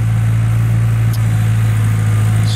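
A skid steer drives back and forth, packing a gravel shop-floor base under a full bucket of weight, with a loud, steady engine drone and a low hum running unbroken throughout.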